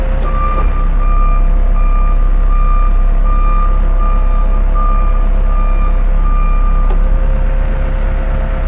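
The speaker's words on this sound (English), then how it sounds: "Make sure the back beeper is working." A CAT TL943 telehandler's reversing beeper sounds as a steady series of loud, evenly spaced tonal beeps over the deep rumble of the idling engine close by.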